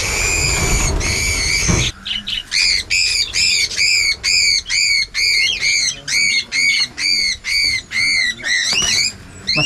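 Cockatiels squawk in a quick run of sharp, repeated harsh calls, close and loud, following a burst of noisy rustling at the start.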